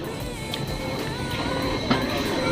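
A Jungfrau railway train pulls into a mountain station with a steady, loud mechanical rumble and hum, punctuated by a brief clank near the end.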